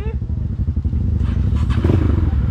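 A dirt bike engine revs in the woods with a loud, choppy low rumble and a rising burst near the end, while indistinct voices sit underneath.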